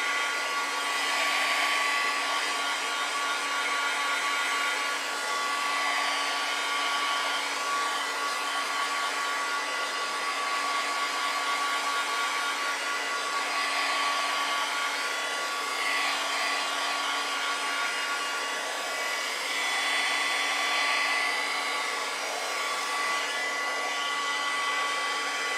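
A hair dryer blows steadily and loudly for the whole stretch, drying wet acrylic paint on a mermaid painting, with a constant whine and airy rush and no voices.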